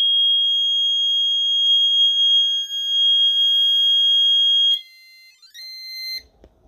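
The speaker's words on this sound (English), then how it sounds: "That sounder will stay on until the detector resets and clears." Smoke detector sounder alarm on a DRP424VE fire alarm panel, a loud continuous piercing electronic tone holding steady for several seconds, then switching to brief chirping tones before cutting off.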